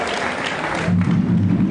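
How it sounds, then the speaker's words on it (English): Crowd applause at a political gathering in Ghana comes as loud, thick clapping that gives way partway through to a low voice and a droning tone. "A big round of applause, please."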